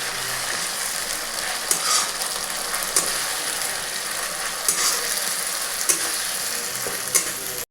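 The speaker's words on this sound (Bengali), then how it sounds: "এই আদা রসুনটা ভাজা ভাজা হয়ে এসছে।" Ginger-garlic paste frying with onions in a pan for Bengali doi chicken, a steady close sizzle with occasional scraping stirs of a spatula, no voices.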